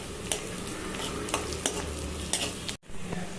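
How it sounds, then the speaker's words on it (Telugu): Onion pieces frying in hot oil with cumin for a ridge gourd and tomato curry, a steady close sizzle with scraping stirring strokes, briefly cut near the end. "వేయించాక కట్ చేసి పెట్టుకున్న ఉల్లిపాయ ముక్కలు వేసి వేయించాలి"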